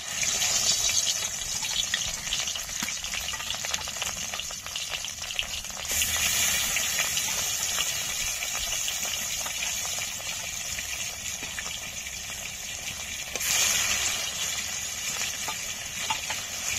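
Rui fish fry in hot oil in a kadai, giving a loud, continuous sizzle that swells twice as the oil spits and crackles, with no talking.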